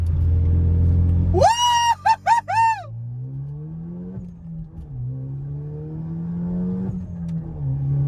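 A Renault Megane RS engine with exhaust valve open blips through several loud, stuttering revs with a raspy open-exhaust bark, then settles into a lower droning pull that rises gradually.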